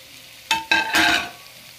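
Eggplant and bitter gourd (ampalaya) hit a hot pan and sizzle in two loud bursts, the second frying hiss swelling then fading over about a second.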